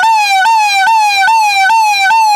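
An ambulance siren wails loud and close, stepping between two pitches in a steady, rapid rhythm with no other sound.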